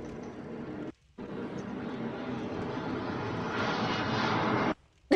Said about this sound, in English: the airplane, though